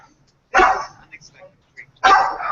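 A dog barks twice, sharp and fairly close, with quiet pauses and a few soft murmurs between the barks.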